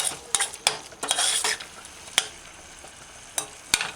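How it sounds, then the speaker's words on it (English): Corn codfish stew with ketchup stirred in a frying pan: a steady sizzle of frying runs throughout, broken by several sharp scrapes and clinks of a spoon against the pan, close and fairly loud, with no voices. "Use the spoon, stir it in, stir it in. Turn the stove's flame up. Allow it to fry for a few seconds and then finished."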